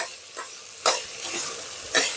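A spoon stirs spiced food cooking in ghee in a home kitchen, making a few soft scraping strokes over a faint sizzle, heard alone at close range.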